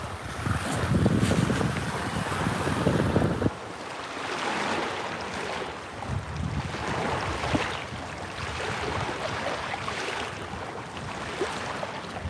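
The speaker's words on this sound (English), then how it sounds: "this would be like one of those really good meditation sound rivers, you know, you've got the waves here." Waves lapping on the James River under gusting wind, a steady wash of water with rumbling buffets against the microphone, strongest at the start and then settling into an even, moderate murmur with no voices.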